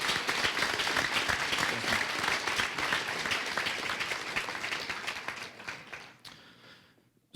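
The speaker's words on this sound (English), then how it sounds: "Please give them a round of applause" Audience at a high school senior awards night applauds the class of 2022, a dense, steady wash of many hands clapping that holds for several seconds, then thins and fades toward the end.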